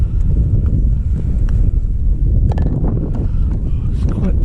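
Strong wind buffets the microphone at night by the sea, a steady loud low roar with gusty rumbles and occasional thumps throughout.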